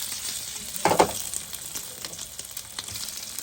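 Pea kachori deep-frying in oil in a pan gives a steady soft crackling sizzle, with a brief louder burst of bubbling near the start before settling back to a quiet continuous hiss.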